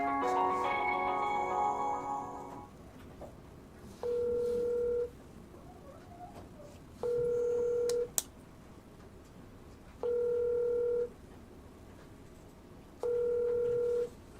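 A brief burst of telephone keypad dialing tones is followed by four evenly spaced ringback tones, each about a second long, with quiet gaps between them.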